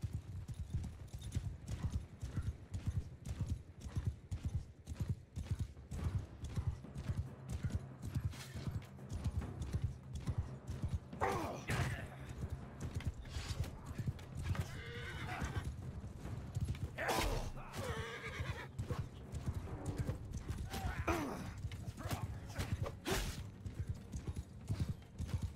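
Cavalry and horse archers in a Mount & Blade II: Bannerlord battle, a rapid continuous drumming of hooves galloping with several shrill neighs and whinnies rising over the din, plus faint battle clatter.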